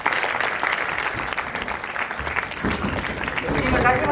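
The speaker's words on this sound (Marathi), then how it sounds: "एकदा जोरदार टाळ्या." Audience applause at a Marathi indie music awards ceremony, a dense steady clapping from a hall crowd that holds for the whole stretch, growing slightly fuller toward the end, with a voice over it.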